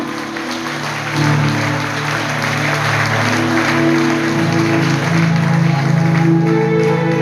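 A church congregation applauds during a sermon, a sustained wash of clapping under steady tonal organ or keyboard chords, growing louder after the first second and continuing evenly.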